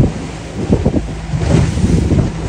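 Open deep ocean water seen from a boat in the Pacific. Constant loud wind buffets the microphone over a low, rolling wash of waves, and the sound swells slightly toward the end with no voices.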